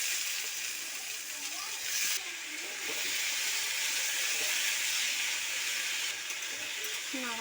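Diced potatoes tipped into a pan of lightly fried onion and green chilli give a steady, loud hiss of frying with a few brief scraping and stirring sounds, for a Bengali potato curry.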